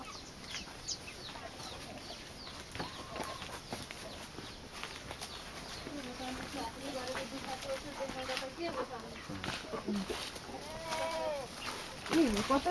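Goats bleat now and then, faint and some way off, in a Nepali hill village of old houses with chickens nearby, under quiet talk and open outdoor air.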